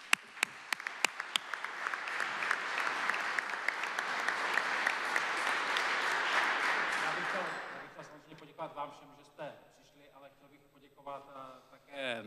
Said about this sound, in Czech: tak za to si myslím taky zaslouží potlesk